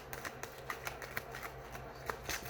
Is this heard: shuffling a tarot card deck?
yes